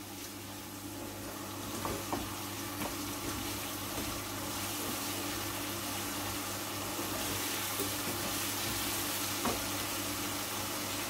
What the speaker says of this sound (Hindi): थोड़ा सा फ्लेम को तेज करके हम इसको थोड़ा भून लेते हैं